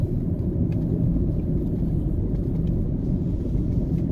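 A car drives along a road near May Pen toward Palmer's Cross, heard from inside the cabin as a steady low rumble of engine and tyres with no voices.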